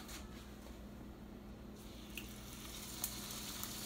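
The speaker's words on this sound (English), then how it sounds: "Toss it a little bit in the pot, in the frying pan." Fry bake dough sizzles steadily in a frying pan, a soft continuous hiss with a couple of faint pops and clicks, heard quietly and without talk.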